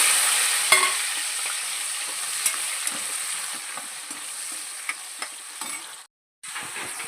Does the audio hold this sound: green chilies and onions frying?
yes